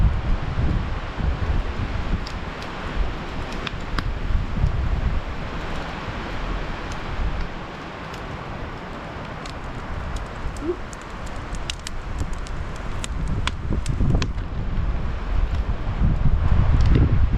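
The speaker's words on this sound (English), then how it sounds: "Oh, listen to that wind." Wind blowing hard at an outdoor campfire in October, gusting and roaring across the microphone in uneven surges with rustling, loudest toward the end, no speech.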